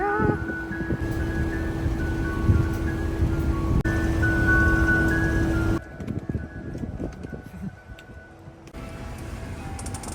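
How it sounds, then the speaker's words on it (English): An ice cream truck in New South Wales, Australia plays its chiming jingle loud and steady for about six seconds, then cuts out, leaving a low rumbling engine idle and outdoor ambience. "But yes, the ice cream truck is here."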